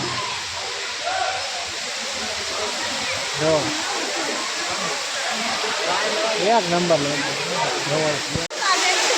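Water pours steadily at the Gaumukh temple waterfall, a continuous hissing rush with a voice talking over it throughout.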